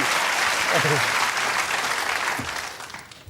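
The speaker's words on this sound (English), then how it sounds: "He gets a big round of applause from me." A television studio audience on a talk show applauds loudly and continuously, a dense wash of clapping that slowly tapers off, with brief voices underneath.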